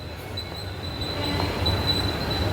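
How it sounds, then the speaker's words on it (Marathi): A commuter train rumbles into a station steadily with a thin, high squeal of wheels on rails, the noise growing slightly louder as it nears. "ट्रेन येते हे बघा 6:52ची ट्रेन आहे"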